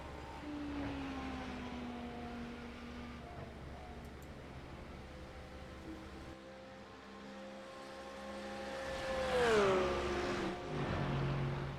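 A GT3 race car engine drones through the Daytona infield in a racing game, with a fairly faint, distant tone that holds and shifts, then rises and revs up sharply near the end before easing off.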